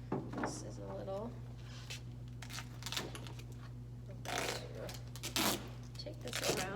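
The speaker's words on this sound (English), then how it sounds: "Now to keep this warm and humid, I'm going to use some duct tape." Duct tape rips off the roll in several sharp bursts and crackles as it is wrapped around a seed-sowing container at the hinge, close and fairly loud, with a person speaking between the tearing sounds.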